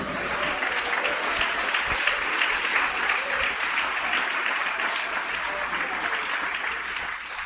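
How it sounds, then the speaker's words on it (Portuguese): Church congregation clapping together, a dense, steady roar of applause that holds evenly throughout, loud and close, without any voice over it. "você quer aplaudir a Jesus?"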